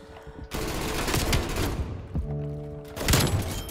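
Rapid gunfire from a hip-fired gun in Call of Duty: Cold War, loud bursts of shots from about half a second on, a brief lull with a steady tonal hum, then another loud volley near the end.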